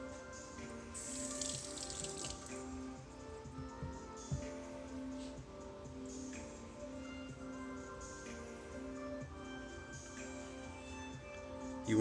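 Water from a tap splashes steadily while a G10 panel is rinsed off, a soft continuous running and spattering sound, fairly quiet and close, with a brief louder splash near the start.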